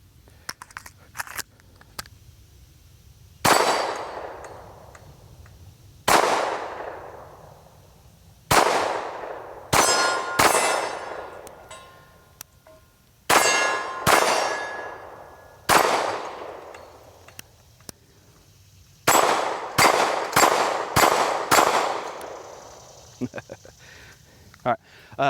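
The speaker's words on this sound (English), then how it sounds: "So I'm gonna go ahead and shoot a little bit more." A SAR 2000 pistol fires at an outdoor range, each sharp shot followed by a ringing decay. The shots come singly and in quick clusters with quiet gaps between them.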